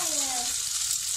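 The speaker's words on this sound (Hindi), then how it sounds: "जिंजर गार्लिक मेरा फ्राई हुआ है ऑलमोस्ट। अब मैं बाकी के वेजिटेबल्स ऐड करूँगी" Ginger and garlic frying in oil for veg Manchurian, a steady bright hiss with a faint tonal whine early on, close and continuous, no speech.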